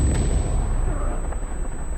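A huge explosion in Metal Gear Solid 5: The Phantom Pain sets everything on fire; a loud, deep rumbling roar fills the moment, with booming bursts rolling on continuously.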